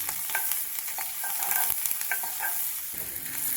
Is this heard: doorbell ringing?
no